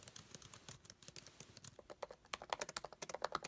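Fingers type quickly on the keyboard of a 2016 MacBook Pro, a fast run of light, crisp key clicks heard close up but faint and alone.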